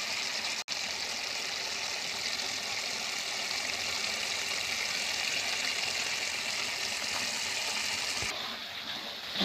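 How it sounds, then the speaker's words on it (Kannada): Egg kheema gravy simmers in a pan, giving a steady, continuous bubbling hiss that holds evenly throughout before easing slightly at the end. "ನಾನು ಇನ್ನೂ ಒಂದು ಸ್ವಲ್ಪ ಕುದಿಸ್ಕೊಳ್ತಾ ಇದ್ದೀನಿ"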